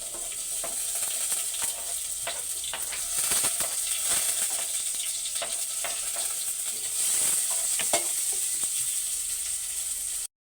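Garlic and onion frying in a pan: a constant sizzling hiss with scattered clicks and light stirring scrapes, close and even throughout.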